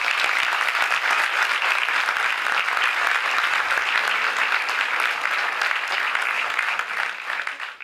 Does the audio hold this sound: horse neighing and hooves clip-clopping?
no